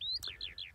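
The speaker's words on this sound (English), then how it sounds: "I can just hear a skylark up in the sky there." A skylark sings high above Gowbarrow Fell in the Lake District, heard as a short run of bright, repeated downward-sweeping chirps, fairly close and clear over faint background.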